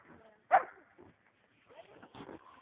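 Dog at a hog pen gives one sharp, loud bark among whimpers and scuffling, with people talking faintly in the background.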